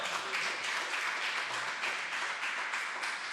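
A church congregation claps in praise to God during an evangelical service, giving steady, even applause that sounds a little distant and soft, with no voices over it.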